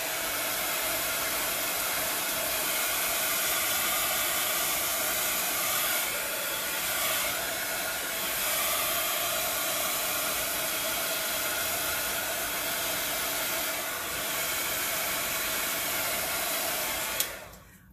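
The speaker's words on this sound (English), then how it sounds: "we're going to give that a quick little blow." A hair dryer or heat gun blows air across wet alcohol ink, a loud steady broadband whoosh that holds continuously for about seventeen seconds and then cuts off abruptly.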